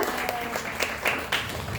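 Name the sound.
class applause for a student group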